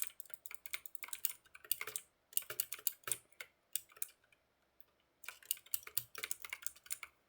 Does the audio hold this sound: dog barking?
no